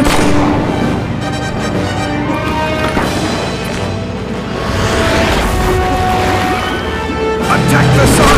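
Shooting in The Adventures of Tintin game during a storm at sea, dense continuous booms and cracks layered over rushing wind and water, with shouting voices mixed in.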